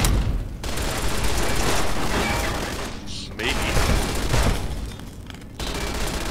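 Turret gunfire in Fallout New Vegas: dense, loud continuous automatic shooting with two brief gaps, rattling steadily with mechanical clatter and no talk.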